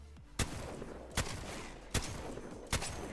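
Four loud, evenly spaced weapon shots from a gun in Apex Legends, each a sharp blast under a constant background rumble.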